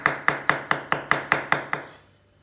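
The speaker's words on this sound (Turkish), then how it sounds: "İçine iki diş de sarımsak doğruyoruz." Knife chopping garlic cloves on a cutting board while making saucy eggplant, about nine crisp, evenly spaced strokes in a steady rhythm, close and clear, then fading to quiet.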